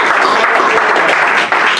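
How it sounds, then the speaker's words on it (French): A church congregation breaks into loud, dense applause, many hands clapping close and continuous throughout without any pause. "Peux-tu donner une bonne main d'applaudissement au Seigneur pour ses serviteurs?"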